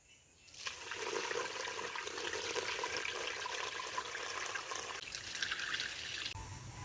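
Water pouring and trickling steadily as it is drained off seed paddy soaked for 24 hours, a continuous splashing flow that runs loud for several seconds before tapering off near the end.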